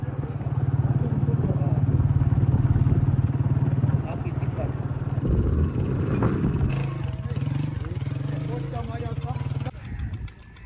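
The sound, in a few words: motorcycle arriving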